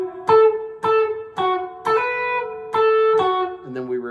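Electric guitar playing a solo phrase, a run of about seven sharply picked, ringing notes with bright harmonics, some sustained, sounding alone and close.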